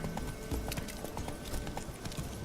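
Roach, a horse in the video game The Witcher 3, trots with a rhythmic hoof clip-clop over rumbling, busy game ambience. It is moderately quiet, and the hoofbeats fall in quick, regular pairs.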